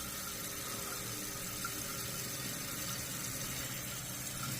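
Water rushing steadily into a tank, a constant hissing fill with a gurgling undertone, uninterrupted for the whole stretch.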